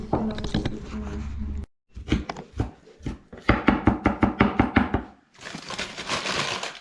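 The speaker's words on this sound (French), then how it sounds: "Allez, on va commencer par couper l'oignon." A kitchen knife finely chopping onion on a board for homemade meatballs, a run of quick, sharp, evenly spaced knocks in close bursts with brief pauses between them, and a voice speaking briefly near the start.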